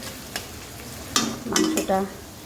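Meat sizzling and being stirred in a pan, with a low frying hiss and a few sharp scrapes and clinks from the utensil against the pan, close and brief.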